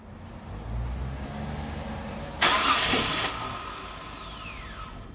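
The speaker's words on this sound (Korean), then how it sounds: "시동 걸고" A car engine cranks and catches with a sudden loud start, then settles into a steady idle, heard up close in a workshop with no talk.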